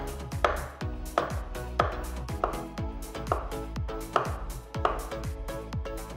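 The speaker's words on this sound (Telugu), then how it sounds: "వీటికి ఉన్న స్కిన్ తీసేసిన తర్వాత ఇలా స్లైసెస్ లాగా కట్ చేయాలి" A knife slices through ripe peeled bananas in a home kitchen, making soft, regular cutting taps about every half second against a board, close and moderately quiet, with a faint musical tone underneath.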